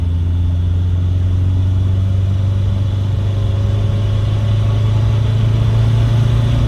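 A Renault 5 Turbo rally car's engine drones steadily from inside the cabin, a loud low rumble holding a constant note with turbo boost building throughout.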